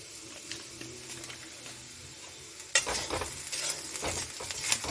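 Steady sizzling of semolina and vegetables frying in a pan, growing louder and busier halfway through as stirring begins, with scraping and crackling close by.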